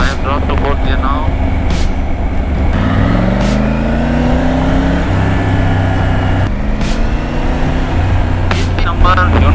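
Car engine humming steadily after a downshift from fifth to fourth gear while cruising around 54 on a ride toward Kufri, with the pitch rising and shifting over a constant road and wind roar as someone talks over an intercom.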